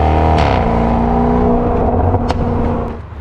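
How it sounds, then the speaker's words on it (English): A Land Rover Defender 90 V8 P580 with a Quicksilver stainless sport exhaust revs in a loud, deep, steady roar that tapers off near the end, heard alone outdoors in the English countryside. "Do I hear the sound of a V8?"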